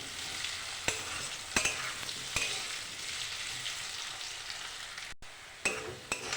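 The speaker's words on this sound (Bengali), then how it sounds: "ভালো করে ভেজে নিচ্ছি।" Potato and kohlrabi frying in a pan for a rohu fish curry, a soft continuous sizzle with scattered clicks and scrapes of stirring, fairly quiet and close, no talking.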